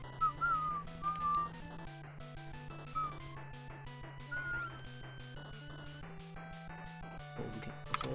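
A person whistles faintly in short, wavering, breathy notes over steady chiptune game music from Rockman 2, the whistling thin and intermittent beneath the louder melody.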